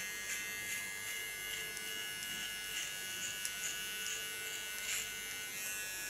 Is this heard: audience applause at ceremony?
no